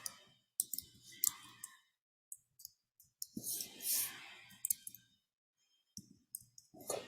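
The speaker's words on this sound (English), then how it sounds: "Let's type here." Keys clack on a computer keyboard in short bursts of typing separated by pauses, close and fairly quiet, with soft breathing noises in between.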